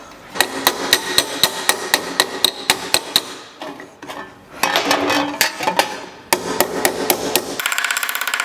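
Hammer striking and flattening a metal flange on a Sunbeam Rapier during fabrication work, loud sharp ringing blows in a steady rhythm, with brief pauses and a quicker flurry of lighter taps at the end.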